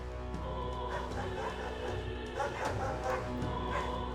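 A dog barking repeatedly in the Metaphor: ReFantazio video game, yapping and whimpering over a busy background of game music and ambience.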